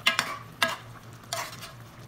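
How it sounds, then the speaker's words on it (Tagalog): Chicken wings in a pineapple juice sauce thickened with flour get stirred in a pan, three short scraping strokes over a soft simmering bubble, close and without talk. "So haluin natin guys."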